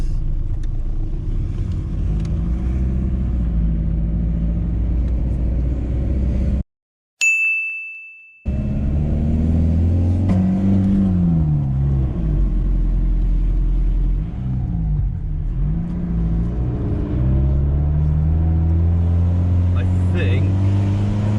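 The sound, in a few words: VW T4 van engine running loud after intercooler popped off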